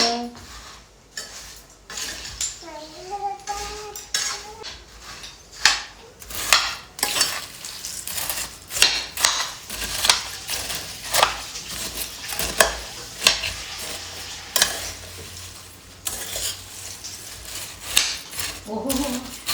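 A metal ladle stirs and crushes poha in a pan, making a steady run of sharp scraping clacks and taps with a faint sizzle underneath. A brief voice is heard near the start.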